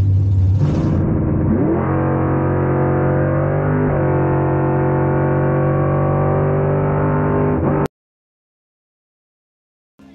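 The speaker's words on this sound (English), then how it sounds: "67 Dodge Coronet in the left, 68 Chevy Camaro in the right." A 1967 Dodge Coronet and a 1968 Chevy Camaro at a bracket drag race launch together, loud roaring engines rising in pitch as they accelerate, then cutting off abruptly into silence.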